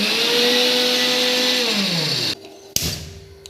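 A mixer grinder whirs loudly as it blends rice, potato, milk and lemon juice into a face pack, its motor pitch sliding down before it cuts off, followed by a clack and brief rattling.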